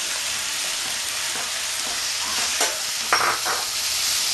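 Mourola fish slid into a pan of spring onion, potato and tomato, frying with a steady close sizzle and a couple of brief louder spits as the pieces land, no voices.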